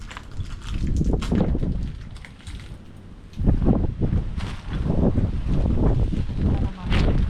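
Gusty outdoor wind on a breezy Christmas-season day buffets the microphone in loud, uneven surges that swell and ease over several seconds.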